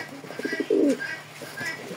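Racing pigeons, a pair sitting on eggs, give a short run of soft, close coos, with a louder, fuller coo in the middle and quieter calls trailing off afterward.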